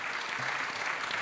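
Audience applause at a French business conference on inequality, a short steady patter of clapping from a crowd.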